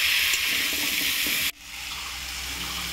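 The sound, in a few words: hot water being poured into cooking pot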